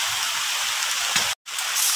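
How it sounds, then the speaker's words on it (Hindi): Steady hiss of rain falling in a rural village where farmland is worked, continuous and fairly loud, with one brief dropout near the middle and no voices. "पूरा बारिश हो रहे है यहाँ"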